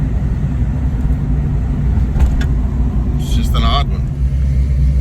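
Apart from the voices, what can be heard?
1983 Mustang EFI engine idling roughly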